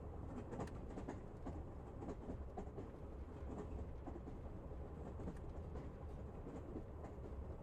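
Steady rumble and rhythmic rattle of a train rolling along the rails, continuous and fairly loud from start to finish, with faint clicks over the wheels and no voices.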